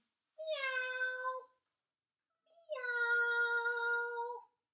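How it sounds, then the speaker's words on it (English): A cat meows twice, each call long and drawn out, loud and close with a short silence between, and no other sound around it. "There's a cat inside the barn, and she's saying, meow,"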